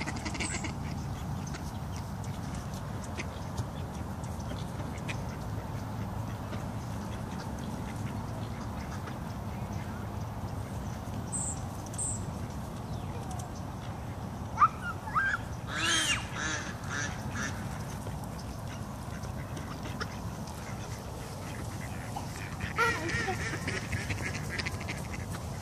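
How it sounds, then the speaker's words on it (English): Wild ducks being chased and handled quack in scattered bursts over a steady outdoor rumble, with a louder cluster partway through and faint voices in the background. "these wild ducks don't like to be held"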